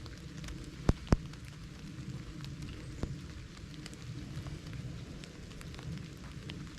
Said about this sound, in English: It's raining on us.